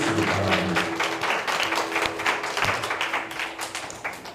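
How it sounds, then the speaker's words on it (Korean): A congregation at a youth church service claps together in steady, sustained applause with no talking, loud and fairly close, tapering slightly toward the end. "박수를 함께 해주시기 바랍니다."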